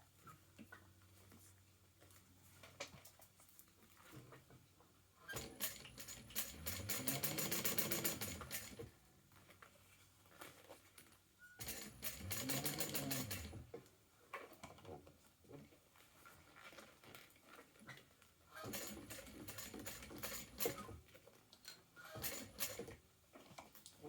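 Sewing machine top stitching along vinyl, heard as two sustained bursts of rapid needle chatter with quieter handling noises between them and a shorter run near the end.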